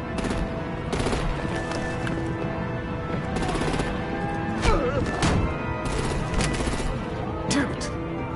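Heavy gunfire and artillery blasts from the Batman Telltale game, Season 2 episode 2, in a dense, loud, continuous barrage with sharp repeated bursts layered over a rumbling battle din.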